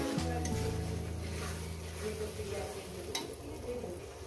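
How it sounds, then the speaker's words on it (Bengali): Ground spice paste is sautéed in a pan for a chicken curry, giving a faint, even sizzle with occasional light clicks of a stirring utensil and a brief tonal hum at the start. "প্রথমে এইটাকে আমি মশলাটাকে সুন্দর করে একটু কষিয়ে নেবো, নিয়ে 3-4 মিনিট ধরে।"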